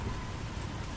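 Heavy rain in the video game Resident Evil, a dense, continuous hiss of falling drops with a low rumbling undertone that suggests thunder.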